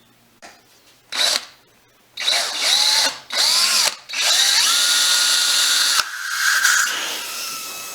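A cordless drill whines in several bursts as it bores a hole into a bicycle tire outdoors on a trail, first in short stop-start pulses, then in longer sustained runs that rise and dip in pitch, close and loud.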